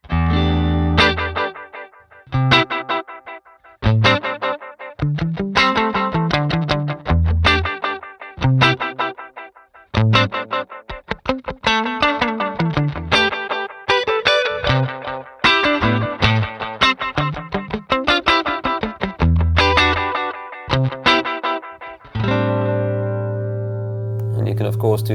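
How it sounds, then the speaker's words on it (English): A funky electric guitar through the delay of the Neural DSP Archetype plugin plays bursts of choppy chords and notes with repeats trailing after them, and the phrase ends on a sustained low note. "But hey, the delay sounds great."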